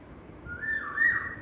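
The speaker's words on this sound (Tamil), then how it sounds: "விசில் அடிக்கிற மூடில் இருக்காங்க மேடம்" A pet parrot whistles a single rising, sustained note, close and fairly quiet, with no talking over it.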